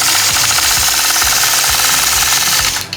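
A domestic sewing machine quilting curved crosshatching lines on a quilt guided by a Mini 4-in-1 ruler, running as a loud, steady rapid stitching rattle with needle knocks that stops near the end.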